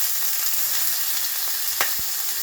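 Oil sizzling loudly in a frying pan with potatoes for an Ainu-style sampei jiru soup, a steady close crackling hiss with a few small pops and stirring clicks.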